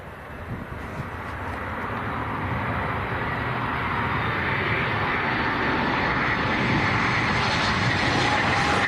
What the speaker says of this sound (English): That was Ryanair from Girona.